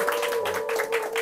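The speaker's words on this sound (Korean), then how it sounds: "우리 큰 박수로 환영하겠습니다." Audience applause welcoming a guest at a prayer-meeting seminar, a brief burst of clapping over a steady hum, with a short low voice mixed in.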